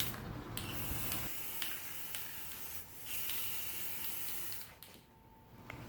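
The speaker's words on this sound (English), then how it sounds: "Same spray finish on the inside as well." Spray finish hisses in short bursts inside an oak box inlaid with copper and resin, the quiet spraying stopping and starting several times with brief gaps.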